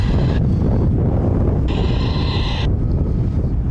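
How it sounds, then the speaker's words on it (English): Strong wind buffeting the microphone in a steady roar at an airbase, with a faint distant whine rising and fading in the background. "The wind is just crazy."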